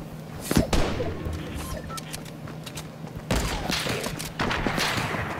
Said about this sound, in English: I have to shoot him with my SMG